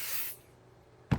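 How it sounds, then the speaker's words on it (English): Light hissing burst of 505 spray adhesive misted onto quilt fabric for a quilted table cloth, lasting a fraction of a second, then a quiet pause and a short thump. "So this is back to the 505 spray."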